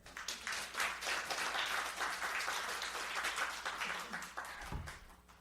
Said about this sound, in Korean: 네, 박수 칠까요?